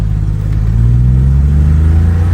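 A car engine running steadily on a test drive, a car with a K24 engine, a loud low hum with a steady drone close by throughout, with no voices.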